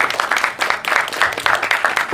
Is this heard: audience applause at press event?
yes